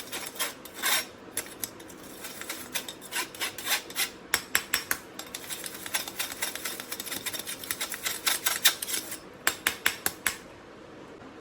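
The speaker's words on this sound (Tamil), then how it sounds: "இந்த லம்ஸ் எல்லாத்தையும் நம்ம வந்து அதில் வந்து சீவ் பண்ணி போடுறோம்." Lumpy dry chocolate cake ingredients are pushed through a sieve, making close, rhythmic rasping and rubbing strokes that speed up into a steady scraping pattern before stopping near the end.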